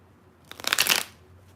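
Tarot cards being shuffled during a live reading session: a single quick riffle burst of papery flutter lasting about half a second, close and fairly loud, with no voices.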